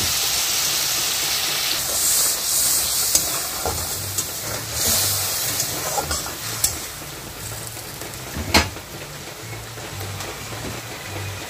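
Mustard and poppy seed paste added to hot oil with prawns sizzles and hisses steadily, a continuous broadband fry with a few sharp spits and crackles, close and moderately loud, no talking.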